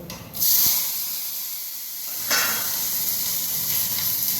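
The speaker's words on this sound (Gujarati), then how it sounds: "આપણી મરચા વઘારીએ એને સળવા દઈએ" A loud, steady sizzling hiss as chillies hit hot oil tempered with mustard seeds and asafoetida, swelling in bursts and holding a constant spray-like crackle throughout.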